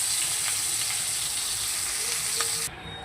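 Cauliflower florets frying in oil until browned, a close, steady sizzle with faint stirring that cuts off abruptly near the end.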